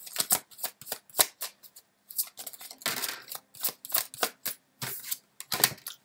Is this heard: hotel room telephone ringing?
no